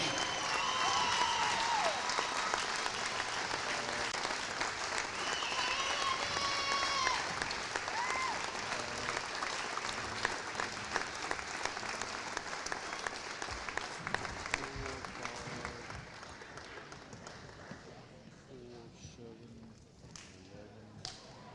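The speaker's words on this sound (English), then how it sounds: "one more hand of applause" Audience applause at a high school varsity basketball game honoring senior participants and their parents, a steady dense clapping in a large gym that carries on for a long stretch, with scattered voices and whistles mixed in, before it thins out near the end.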